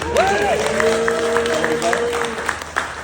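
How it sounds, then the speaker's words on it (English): Theatre audience clapping and a few cheers fill the room at the start of a show while a tonal, gliding sound rises above them, the applause fading slightly toward the end. "let's give a round of applause for you guys real quick"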